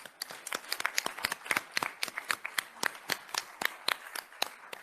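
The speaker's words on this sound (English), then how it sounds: "Round of applause for these people." An audience at a data protection panel event gives a sparse round of applause: distinct, fairly close individual hand claps in an uneven, scattered rhythm rather than a dense wash, with no voices over it.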